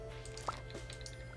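Watering crops with a watering can in Stardew Valley, a farming video game: a single short liquid splash-drip sound over steady background game music, with a second fainter drip shortly after.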